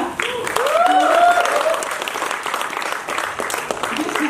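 Audience applauds theatre performers after a stage play's cast introductions, a steady dense clapping crowd throughout, with voices and whoops rising over it near the start.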